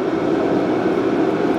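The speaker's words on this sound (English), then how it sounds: "I do apologise if you can hear that jet noise in the background" Steady low roar of jet aircraft noise in the background outdoors on a freezing day, continuous and fairly loud with no talk.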